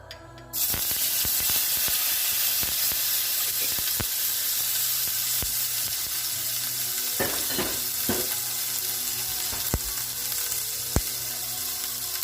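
Sofrito sizzles steadily in a hot pan, a loud continuous frying hiss with scattered crackles and a few stirring clicks, no talking.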